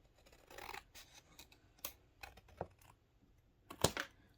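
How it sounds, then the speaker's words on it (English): Scissors snipping a thin sliver of paper for a handmade journal, several soft, scattered crisp cuts with rustling, close and quiet. "so I just cut a little sliver here"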